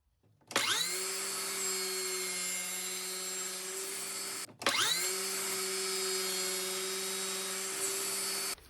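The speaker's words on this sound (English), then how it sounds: "I'm going to try to trim the excess off to about where the sides are protruding there" A table saw with a crosscut sled trims the protruding sides of a wooden box in two cuts, each a loud steady whine that starts abruptly, with a brief gap between them.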